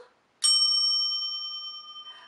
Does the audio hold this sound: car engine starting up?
no